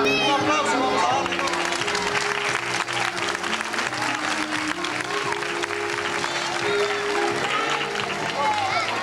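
Loud, sustained audience applause with crowd cheering fills a lively televised show, dense and continuous throughout while music plays underneath.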